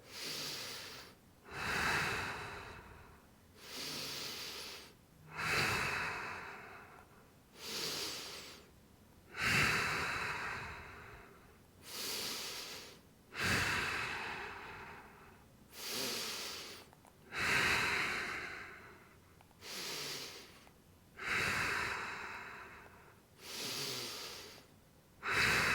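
Deep rhythmic breathing during Tibetan Rites exercises, about a dozen forceful inhale and exhale cycles in a steady cadence, close and alone with no talk.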